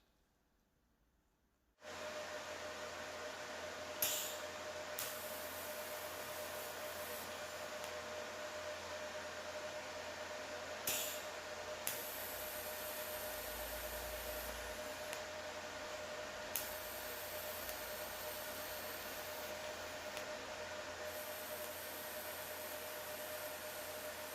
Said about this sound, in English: I'm going to TIG weld them, and hopefully that should recover our mishap